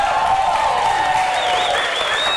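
Audience applauding at a live show, a loud, dense wash of clapping with a sustained high whistle-like tone running through it, no speech over it.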